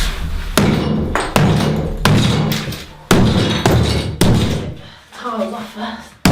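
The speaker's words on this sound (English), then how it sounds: "Pretty butch with a sledgehammer" A sledgehammer knocks an old bathroom fixture loose during a rural renovation, with a series of heavy, sharp impacts about once a second, close and loud, each followed by a rattling ring.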